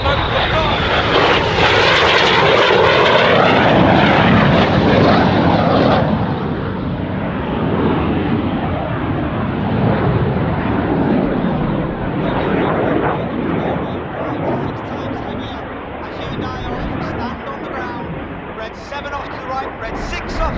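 Red Arrows jets roar loudly overhead while performing the Carousel manoeuvre at the Royal International Air Tattoo, a sustained dense jet-engine wash that swells early, then eases into a steady, slightly fading rumble as the aircraft pull away.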